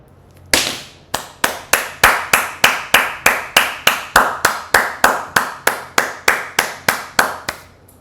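A single pair of hands clapping in a slow, steady rhythm, about twenty close, sharp claps evenly spaced, with no voices over them.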